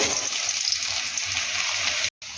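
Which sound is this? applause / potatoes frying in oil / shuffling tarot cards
potatoes frying in oil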